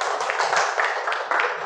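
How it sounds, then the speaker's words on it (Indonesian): A classroom of students claps for a group after its presentation, a short burst of brisk, fairly close clapping. "Tepuk tangan untuk kelompoknya Adel"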